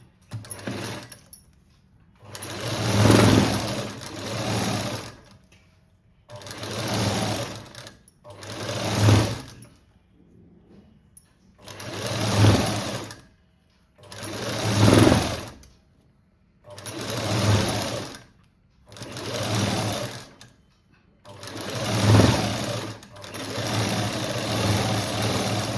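A sewing machine stitches a puff sleeve in repeated bursts of steady whirring, each lasting a second or two and separated by short quiet pauses, close and fairly loud.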